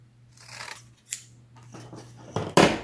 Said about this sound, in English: what you also can use is a piece of sandpaper. So I'm just going to cut a small piece of this